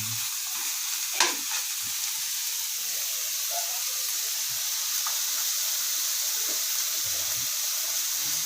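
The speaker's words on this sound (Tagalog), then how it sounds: "Gigisahin po natin ng mabuti hanggang sa mag-golden brown po yung giniling" Ground pork sizzles as it is sautéed in a pan until golden for pakbet, a soft, steady frying crackle with a few brief scrapes and clinks of stirring, fairly quiet throughout.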